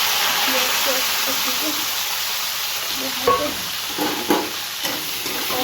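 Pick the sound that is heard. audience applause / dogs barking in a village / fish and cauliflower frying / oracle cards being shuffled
fish and cauliflower frying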